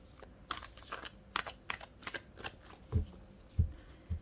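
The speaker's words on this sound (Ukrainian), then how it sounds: "І зараз я теж потасую цю колоду" A deck of cards is shuffled up close in rapid riffling bursts. A few soft thumps follow as the deck is squared, and no one speaks.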